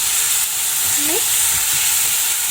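Dal mixture being stirred in a hot pan, a loud steady sizzle and hiss with soft scraping of the spoon throughout.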